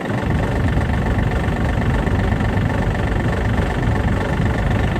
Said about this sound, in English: PTO switch, there we go. We'll let that run just a second there.